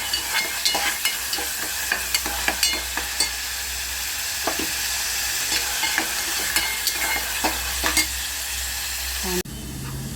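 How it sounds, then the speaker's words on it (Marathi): Onion roasting in a pan for matki usal and amti, a steady broadband sizzle with repeated sharp scraping stir strokes close by, ending abruptly near the end; no voices. "कांदा भाजून घेऊया"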